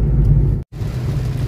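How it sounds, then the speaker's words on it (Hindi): Heavy monsoon rain pours down outdoors in a dense, steady hiss and rumble, briefly cut by a moment of silence before continuing just as loud. "ये देखिए कितनी तेज़ बारिश हो रही है और ठंडा मौसम हो गया है पूरा"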